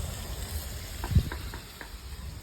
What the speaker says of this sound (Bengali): পেঁয়াজে গ্রেভিটা তেল ছেড়ে দিয়েছি